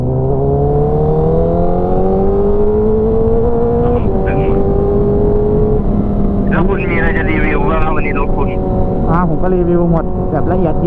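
A Honda CBR1000RR motorcycle engine warms up close by, holding a loud, steady drone with slowly shifting pitch. Its tone rises a little partway through, and speech runs underneath.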